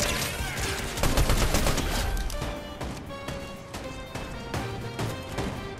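An automatic shotgun fires in Fortnite as a rapid string of loud, punchy blasts, with other game effects and crashes layered in, and no talking heard.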